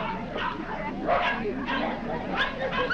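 Scottish terriers at a dog show ring, sharp repeated yips and barks, close and fairly loud, with a voice talking over them.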